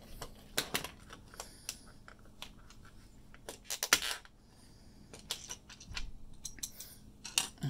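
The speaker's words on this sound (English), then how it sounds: "cutting the sticker with a pair of pliers" Pliers snip through a plastic sticker on a lightsaber blade, heard as quiet, irregular sharp clicks and crunches scattered across a near-silent background.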